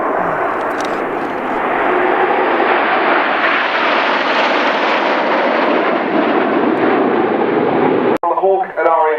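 Red Arrows BAE Hawk jets fly overhead in tight formation, giving a loud, sustained roar that swells and holds for several seconds before cutting off, followed by a brief burst of talk.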